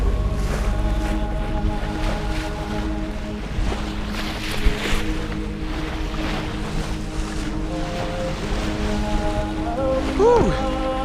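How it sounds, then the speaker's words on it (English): Wind blusters around a lone sailboat at sea in the North Sea in about 10 knots of breeze, with a steady rushing roar, water wash and microphone buffeting throughout, plus a few faint tonal creaks near the end. "we have about 10 knots of wind"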